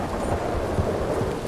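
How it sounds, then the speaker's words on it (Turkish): A deep rolling thunder rumble during a rainstorm in the video game Red Dead Redemption 2, a steady dense roar with rain hiss throughout and no talking. "Oo yıldırıma bak."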